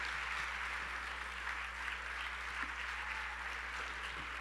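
A student audience at a university talk gives a sustained round of applause, an even, dense patter of many hands from across the room, with no speech over it.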